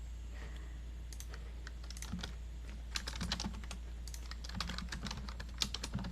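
Fingers type on a computer keyboard in uneven bursts of light, crisp key clicks over a constant low electrical hum, with no voices.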